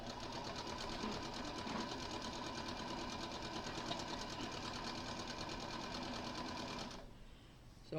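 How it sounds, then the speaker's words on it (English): A sewing machine stitches quilt pieces together with nested seams in a steady, fast, continuous rattling hum that runs for about seven seconds, then stops, leaving quieter room noise. "So I'm going to finish sewing these together"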